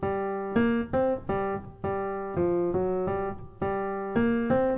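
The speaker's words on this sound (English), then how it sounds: "Mission Impossible, of course, sounds like this." Mission Impossible theme played on solo piano in 5/4 time, a steady series of clear struck notes and chords in an uneven five-beat pulse, close and alone with no talking.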